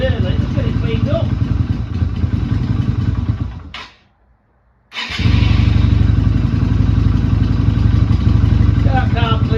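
A Yamaha Virago 250 motorcycle engine runs steadily and loud, cutting out briefly for about a second before firing back up with a strong, even rumble; a voice speaks over it.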